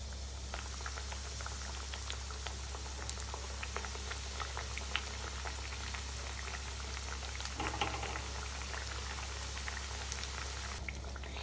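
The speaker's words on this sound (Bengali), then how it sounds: "এইবার একই তেলে যেগুলো ব্রেড ক্রাম্ব দিয়ে কোট করেছিলাম সেইগুলো ভেজে নেব" Bread-crumb-coated tuna fish kebabs fry in hot oil with a dense, steady bubbling sizzle and frequent small pops and crackles, close and continuous, without talk.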